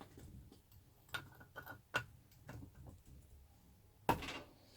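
A 13mm socket wrench works on a fastener of a WW2 Zundapp KS600 motorcycle engine during strip-down, giving several sharp, irregular clicks and knocks close by, with a louder metallic crack near the end and no talking.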